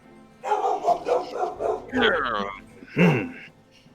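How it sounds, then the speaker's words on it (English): A dog barks and yips several times nearby, with a whimpering, rising bark near the end, mixed with a person's voice. "I'm going to find out what Emmy's barking at"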